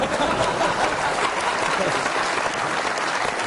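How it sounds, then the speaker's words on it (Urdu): Dense, loud audience applause at a live comedy show in Dubai, a continuous close wash of clapping that holds steady throughout. "تالیاں میرے لیے، تالیاں"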